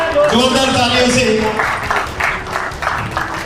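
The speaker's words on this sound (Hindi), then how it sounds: "जोरदार तालियों से" Applause rises from the audience at a seminar for International Jat Day in Vasant Kunj, a dense wash of clapping that carries steadily under a speaking voice throughout.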